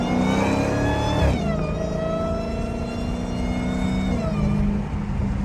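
Straight-piped Dodge SRT Hellcat engine revving hard nearby, a loud raspy roar climbing in pitch, dropping briefly, then rising again before easing off, with no talking over it.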